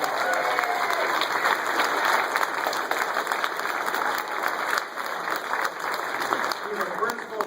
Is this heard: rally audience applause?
yes